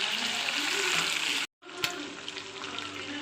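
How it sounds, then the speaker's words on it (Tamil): Chicken 65 pieces sizzle steadily in hot oil after being turned, a dense close frying hiss with a brief gap midway and a small clink just after. "இப்போ நம்ம திருப்பி விட்டுக்கலாம் சிக்கனை."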